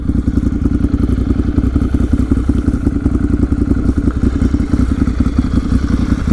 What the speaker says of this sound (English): That is the sound of that exhaust.